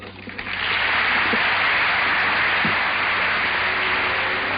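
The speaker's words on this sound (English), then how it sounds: "The applause Mr. Johnson's talk receives" Applause at the United Nations after a speech by President Johnson, swelling from a quieter start into a broad, sustained roar of clapping that holds steady.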